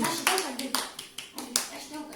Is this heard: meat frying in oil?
no